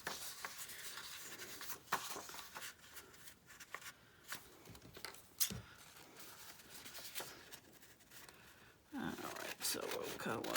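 Scissors cutting around a paper postcard, soft scraping snips and paper rustles close up, irregular and fairly quiet, with a sharper handling noise near the end.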